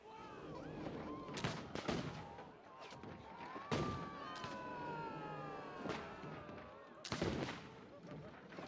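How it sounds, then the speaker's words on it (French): A small pirate figure fires a gun in the theme-park game Planet Coaster 2, with several sharp, booming shots spread over busy background music and game sounds. "Là, un petit pirate qui tire."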